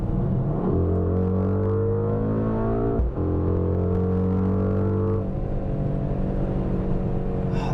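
The deep V8 engine of a 2021 Mercedes-Benz AMG GLE 63 S roars steadily as it accelerates at night, its pitch climbing in two long pulls with a brief dip between them, loud and close.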